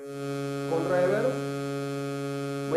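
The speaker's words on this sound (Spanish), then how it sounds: "conectado por la reverb, suena así" Synthesizer oscillator run through a spring reverb: a steady buzzing harmonic drone, with a wash of swelling reverberation that rises in the middle and fades back into the sustained tone.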